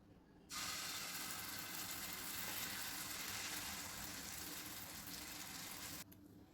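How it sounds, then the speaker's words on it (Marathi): Sprouted moong dosa batter sizzles on a hot tawa over medium gas, a loud steady hiss that bursts in suddenly and holds evenly for about five and a half seconds before cutting off. "तुम्ही बघू शकता आपण डोस्याचं पीठ घातलं आहे तव्यावर।"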